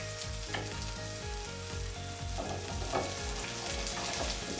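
Steak hash with potatoes frying in hot oil in a single pan, a dense continuous sizzle with crackling pops and scraping stirs, close and loud with no talk.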